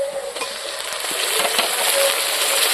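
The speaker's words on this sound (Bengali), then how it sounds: "পেঁয়াজ আর রসুন একসঙ্গে বাটি নিয়েছি, এটা দিয়ে দিলাম" Onion and garlic paste frying in hot oil for a koi fish tel jhal gives a steady, bright sizzle that swells slightly as it goes on, with a few faint stirring clicks and no voices.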